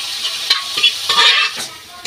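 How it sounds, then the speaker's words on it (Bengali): Dal being stirred into frying masala in a pressure cooker gives a short stretch of hissing sizzle with several soft scraping stirs, close and fairly loud, and no talking. "এই যে ভালো করে আমি মশলাটা মিশিয়ে নেব"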